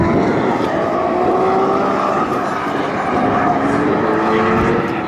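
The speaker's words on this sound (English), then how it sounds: "This car sounds really sweet from the outside because you can hear the intakes, you can hear the exhaust, you can hear it coming towards you and away" A Nissan 370Z Nismo drift car drives past, its engine and exhaust a moderately loud rising and falling drone that comes toward the listener and then moves away, with faint voices in the background.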